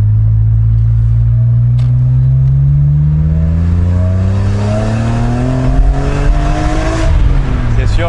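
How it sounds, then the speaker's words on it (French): A six-cylinder car engine revs loudly and steadily, its pitch climbing smoothly through the clip, close and continuous with no talking. "juste le son de ce moteur me suffit. Le 6 cylindres"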